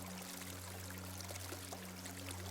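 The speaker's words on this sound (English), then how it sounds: "If you look down, this subtle flow of water" A river flows gently in a steady, soft, continuous rush of water outdoors, with no talking, under a faint low hum.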